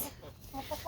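Chickens clucking in their cage among a flock, soft short clucks repeating through a brief moment at moderate distance over low background noise.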